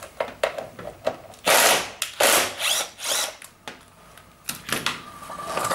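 A screw being worked loose on the pump housing of a heat pump tumble dryer, with close ratcheting clicks and scraping metallic turns in quick irregular bursts, loud and near with no talking.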